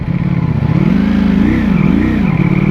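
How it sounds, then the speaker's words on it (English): Ducati Panigale V4S motorcycle idling with its cooling fan running, a close, steady engine drone with gentle pitch wavers, loud and continuous for a few seconds. "It's definitely hot because the fan's kicking in on this bike"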